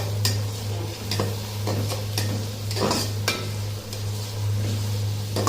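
Onions frying in oil for beresta for restaurant-style chicken korma, stirred repeatedly with a utensil that scrapes and taps against the pan over a steady sizzle and a low hum.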